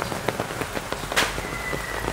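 Rain patters on plants and surfaces in a garden on a wet day, irregular close drops tapping over a steady hiss, with one louder splash near the middle.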